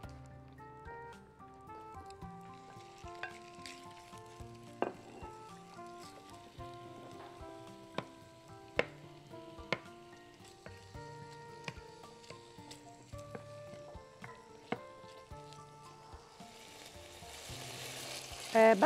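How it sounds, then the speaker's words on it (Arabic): Chicken pieces brown in melted ghee in a pot, giving a soft, steady sizzle with occasional sharper pops and crackles, heard close. There is no talking. "هنحط بقى دلوقتي اول حاجه الفراخ لان انا عايزه الفراخ تتحمر قبل ما نحط لها الميه"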